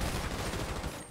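Rapid gunfire in GTA 5 roleplay, a dense burst of repeated shots in quick succession, loud and close, running the full length before tapering off.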